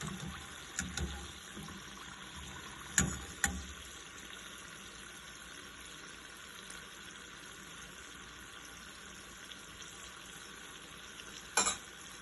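Savory coconut rice balls frying in hot oil in a pan, a steady soft sizzle throughout with a few sharp clinks of a utensil against the pan.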